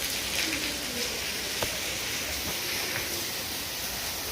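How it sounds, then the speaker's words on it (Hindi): Very heavy rain pours down steadily in Almora, a dense, continuous hiss of falling water close by, with scattered drop impacts and no voices over it. "बहुत तेज़ बारिश हो गई है इस समय,"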